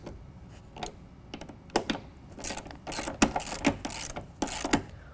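Ratchet tightening factory Torx bolts on a 2017 Honda Ridgeline truck bed while fitting a BAKFlip FiberMax tonneau cover, a close series of quick irregular clicks and ratcheting bursts at modest volume.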